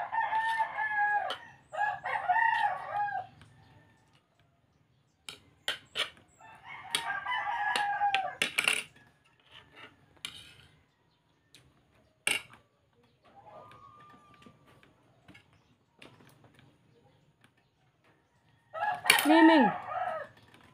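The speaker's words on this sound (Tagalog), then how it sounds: "Sensya na nga pala kayo sa manok na kapitbahay namin mga tol. Naingay." A rooster crows several times at intervals, loud and close, with quiet gaps and a few short clucks and clicks between the calls.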